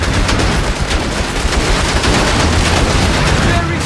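Battlefield sounds from the video game Company of Heroes 3, with infantry under fire: dense, continuous gunfire and explosions form a loud, unbroken roar throughout.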